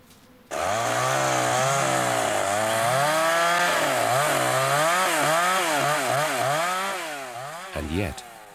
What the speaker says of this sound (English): even while the chainsaws were still clearing the debris